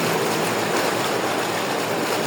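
Steady rushing water pours from a new pump through a pipe into a main tank, a dense continuous flow close by with no voices over it.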